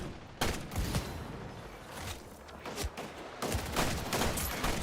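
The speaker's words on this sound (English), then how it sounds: "I can see where I'm being shot from." Rapid gunfire in the arena shooter Splitgate, with bursts of close, loud shots crackling in quick succession, broken by short pauses before the firing resumes.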